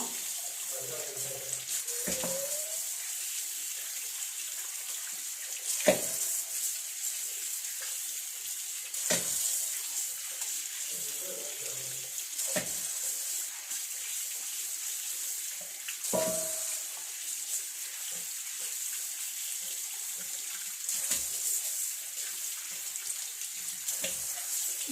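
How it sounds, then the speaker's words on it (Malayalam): Chicken legs are washed under running tap water, with a steady hiss of flowing water and intermittent splashes and clatters as the pieces are handled in a sink. "കോഴിക്കാല് ഞാൻ കഴുകണോ"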